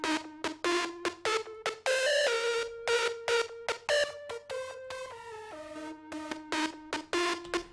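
A processed EDM synth support lead plays bright, choppy staccato notes in a quick rhythmic pattern. The sound is close and fairly loud, with a brief sustained passage midway.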